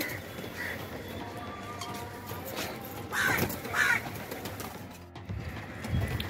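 Pigeons coo and call inside a pigeon loft in Andheri West, Versova, Mumbai, with several close calls over a steady murmur of birds and faint background activity.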